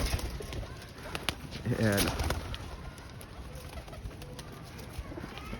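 Pigeons held by a bird dealer coo softly in a few low, throaty bursts, one clearer call standing out near the middle, all faint beneath a voice.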